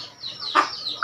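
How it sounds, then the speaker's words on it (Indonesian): A hen gives two short, close clucks with a thin high squawk between them, brief and fairly loud against a quiet background. "saya bawa ayam nih. Ini buat Kong Haji nih. Ayam betina."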